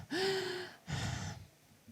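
A voice imitates the obstructed, congested breathing of small children: a wheezy inhaled gasp with a rising whistle, followed by a rougher breathy exhale, close and moderately loud with no words.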